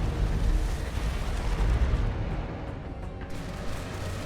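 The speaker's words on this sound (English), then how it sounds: "here is going to be yet another orbital bombardment" An orbital bombardment in the Dawn of War II: Retribution strategy game, heard as a dense, rumbling barrage of booming explosions that stays loud and continuous and then eases off slightly toward the end.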